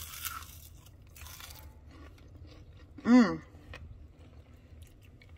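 One loud, sharp crunch from biting a still-warm homemade chicharrón of crispy fried pork belly skin, close up, with a short murmur of appreciation from a person. The kitchen is otherwise quiet.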